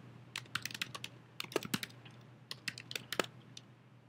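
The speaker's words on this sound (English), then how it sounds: "So go ahead and add text to your page. Type your desired message." Keys clatter on a computer keyboard as text is typed, in quick bursts of light clicks separated by short pauses, close and quiet with no speech.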